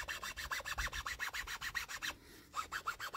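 A hand tool carves a groove into the wood of a hiking stick grip in a rhythmic series of rasping strokes, about six per second, close and clear, with a brief pause before the scraping resumes.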